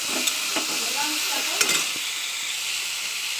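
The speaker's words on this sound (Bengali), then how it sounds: "কাঁচা লঙ্কা, কালো জিরে আর একটা পেঁয়াজ দিয়েছি।" Green chilli, black cumin and an onion sizzle in hot oil in a kadai, a steady bright hiss broken by a few clicks of stirring.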